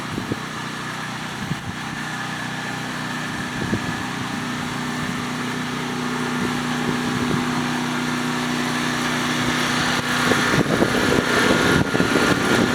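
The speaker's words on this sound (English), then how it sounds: "He's got his generator here fired up." A small generator runs at a rural cabin with a steady, droning engine hum that holds for the whole stretch and grows slightly louder toward the end, close at hand and without talking.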